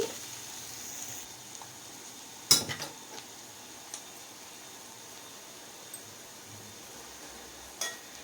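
A spoon stirs cabbage curry with curry leaves in a pan, giving a few sharp metallic clinks and scrapes spaced out over a quiet, faintly hissing background.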